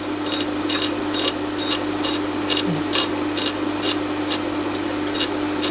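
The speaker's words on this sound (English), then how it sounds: "take about 90 seconds to go all the way across your stone, and that'll give you a fairly smooth cut when you grind your chisels" Tormek wet grinder with a TT-50 jig grinding a chisel across its stone, giving a steady rasping hum with regular brighter scraping pulses about every half second, close and alone.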